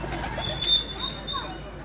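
A pigeon at a pigeon club gives a soft, low coo nearby, faint against a quiet background, with a brief thin whistle-like tone passing through.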